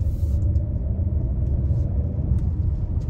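A 2023 Hyundai Palisade XRT SUV cruises at light throttle, its engine giving a steady low rumble with road noise, continuous and fairly loud inside the cabin, with no talking.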